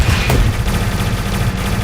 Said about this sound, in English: Now they're just both trading SMGs.